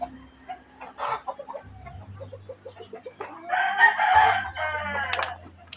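Chickens cluck in short bursts nearby as they perch on rocky ground with no soil, then a rooster lets out a loud crow, with a low hum underneath.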